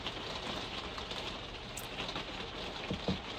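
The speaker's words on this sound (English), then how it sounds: "Even in this weather, yes, this rain, which is relentless" Relentless rain falls outdoors as a steady, dense hiss of drops on surfaces, holding an even level throughout with a couple of slightly louder patters near the end and no talking.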